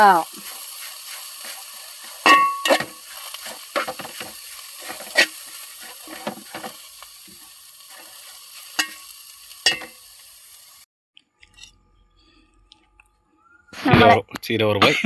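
Leafy-greens thoran is stirred in a frying pan: a faint hiss runs beneath scattered spatula clicks and scrapes, then a lull, and a voice speaks near the end.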